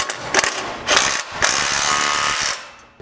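A ratchet fitted with a 22 mm socket and a swivel extension tightens bolts on a Jeep JL Wrangler rear bumper, giving several quick bursts of close, rapid clicking with short pauses between strokes.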